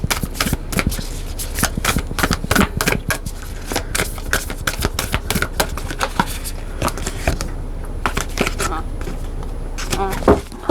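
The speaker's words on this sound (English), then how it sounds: "Let me shuffle one more time." Tarot cards shuffled by hand in quick, rippling bursts of papery flicks and snaps, close and steady across the whole stretch with brief pauses between riffles.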